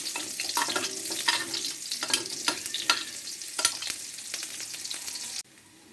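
Chopped onions hit hot cooking oil in a pan and sizzle loudly as a utensil stirs and scrapes them in quick strokes, before the sound cuts off abruptly near the end.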